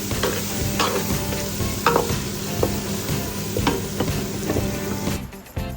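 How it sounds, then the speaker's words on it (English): Carrots, green peppers, edamame beans and sweet corn sizzle steadily in hot oil for Nigerian fried rice, with repeated scrapes and clacks of stirring, close and loud, ending in a brief pause. "Then I'm just going to fry these thoroughly in the oil."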